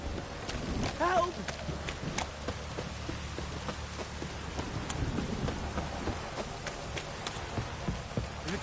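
Steady rain patters in The Witcher 3 video game, with a low rumble of thunder beneath and a brief wavering cry early on, while a voice speaks over the downpour.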